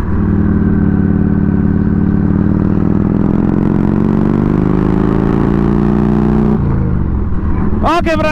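A classic Harley motorcycle engine drones loudly and steadily while riding, pitch rising slowly, then dipping as the rider shifts; a voice speaks briefly at the end.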